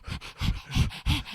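A person imitates a dog panting and sniffing with a voice: four quick, breathy bursts of huffing sniffs in an even rhythm, close to the microphone and fairly loud.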